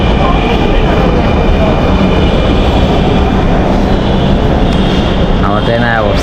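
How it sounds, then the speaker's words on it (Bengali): A train pulls into a station on a Bhairab to Dhaka trip, a loud, steady rumble and rattle of the carriages very close by, with a brief voice near the end. "আমার ট্রেন আয়া পড়ছে।"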